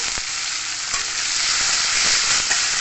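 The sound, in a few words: frying onions and chopped tomatoes in a pan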